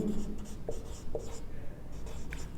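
Pen scratching on paper during an English grammar lesson on the present perfect tense, a few short close strokes with brief taps, heard alone without talk.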